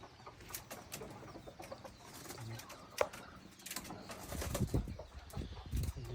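Chickens beat their wings in a run of sharp, dry flapping bursts, one especially loud near the middle, amid scattered clucks and bird calls close by; no one speaks.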